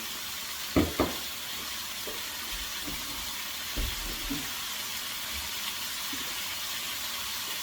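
Stir fry sizzling in a pan after a splash of soy sauce, a soft steady hiss with a few light utensil knocks against the pan, fairly quiet and close.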